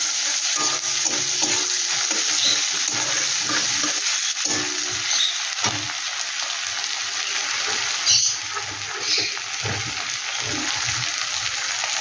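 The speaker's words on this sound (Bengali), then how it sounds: "পেঁয়াজটাকে একটু ভালো করে আমি ভেজে নেব।" Chopped large onion frying with whole cumin in a pan for a prawn dish, a loud continuous sizzle with frequent spoon stirring and scraping throughout, no voices.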